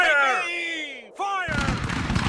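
In the American Revolution strategy game The Glorious Cause, a shouted command rings out, then troops fire a volley: a sudden, loud, crackling burst of musket fire that continues to the end.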